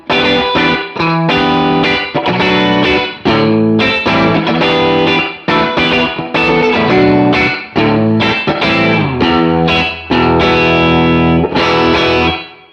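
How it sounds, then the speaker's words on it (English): An electric guitar plays choppy, distorted chords through a wet, drippy surf-rock spring reverb pedal, loud and up close. The chords come in rhythmic bursts with short gaps between them, and no one speaks. "I've dialed in a pretty wet spring reverb"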